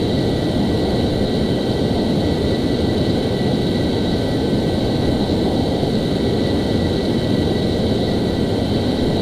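Constant roaring jet engine of an F-14 in Flight Simulator X, cruising over Turkey, a smooth, unbroken broadband drone with a faint high whine, steady and loud throughout without speech.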